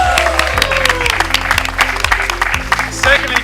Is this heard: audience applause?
yes